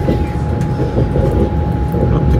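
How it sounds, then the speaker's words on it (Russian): Steady low rumble and rolling noise of a passenger train to Sochi in motion, heard from inside, continuous and fairly loud with a faint high whine. "нашего поезда, который мчит нас в Сочи"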